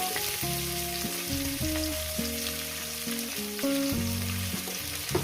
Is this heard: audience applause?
no